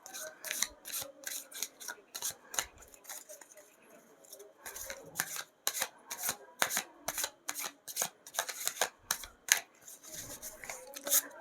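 Deck of cards shuffled for a card reading, a rapid run of crisp papery snaps and riffles in uneven bursts with brief pauses, close and fairly quiet.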